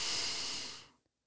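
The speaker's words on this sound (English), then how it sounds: "So I want you to take a deep breath." A single deep breath, a long loud breathy inhale or exhale lasting about a second up close, then fading out into silence.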